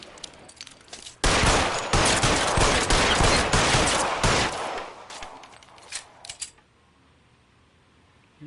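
Shotgun fire during a gunfight in LA Noire Remastered, a 1940s detective game: a dense run of loud, close blasts mixed with other gunfire for several seconds, then scattered shots that thin out into quiet.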